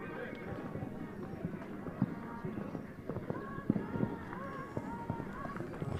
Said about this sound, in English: Horse jumps up nicely